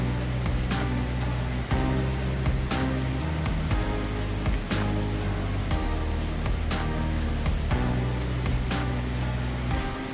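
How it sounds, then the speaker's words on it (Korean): Hongryong waterfall near Hongryongsa temple roaring, a loud, continuous broadband rush of falling water heard close, with occasional sharper bursts over the steady roar and no talk. "벌써부터 폭포 소리가 웅장하게 울려 퍼집니다."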